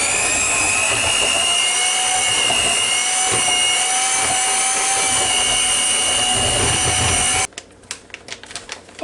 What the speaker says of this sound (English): Now I'm going to take my soft scrape mixer here, put it down here, see what we can do with them.